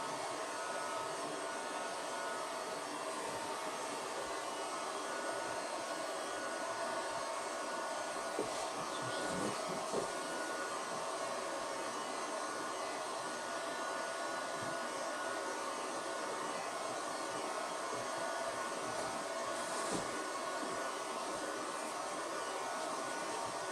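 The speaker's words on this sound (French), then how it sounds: "un petit coup de décapeur" A heat gun drying freshly screen-printed ink on a T-shirt gives a steady, even blowing roar that holds without pause throughout, with no voices.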